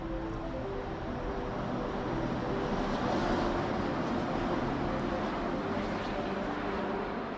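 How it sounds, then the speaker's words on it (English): Cars pass on a highway right beside a snowy winter forest, making a steady, broad rumble of traffic that holds evenly throughout at a moderate distance. "There you can hear some cars going by."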